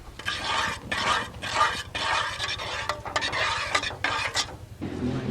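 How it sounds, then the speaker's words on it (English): Cayenne pepper and a sweet barbecue spice mixture stirred together in a bowl, giving repeated scraping, clinking strokes in a steady rhythm, close and fairly loud, with no talking. "And a half a teaspoon of cayenne pepper. There we go. We're going to mix all that together."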